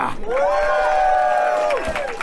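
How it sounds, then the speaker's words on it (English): At an LGBTQ+ queer storytelling night, a single sustained whooping cheer rises and falls over a faint, diffuse crowd murmur. "Round of applause for crime!"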